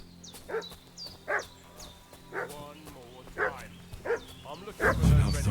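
A dog barks repeatedly in Kingdom Come: Deliverance 2, with several sharp, fairly close barks spaced about a second apart over a low ambient drone, plus a louder rumble near the end.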